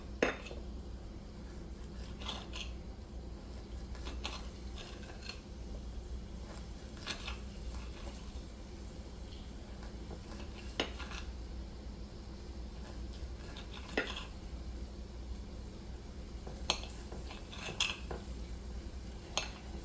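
Cut-up leftover rice and beans cook in a pan, a low steady background hiss broken by scattered utensil scrapes and clinks against the pan, quiet and close with no talk.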